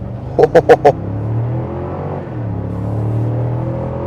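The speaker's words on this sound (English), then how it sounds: "Even without the active exhaust, this V8 sounds good" A deep V8 engine in a 2026 Cadillac Escalade Sport, without active exhaust, revs in a few quick bursts, then settles into a throaty, rising rumble as the vehicle pulls away nearby.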